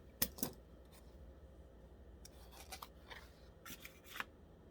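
Scissors snip through a cardboard toilet paper roll in a few short, crisp cuts spaced over several seconds, quiet and close with no talking.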